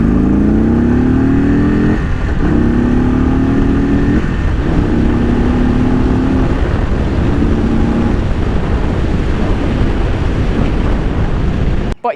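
A 2023 Indian Chief Bobber Dark Horse motorcycle in sport mode roars steadily and loudly throughout, its engine tone climbing in repeated throttle pulls with brief dips between gears, ending in an abrupt cutoff.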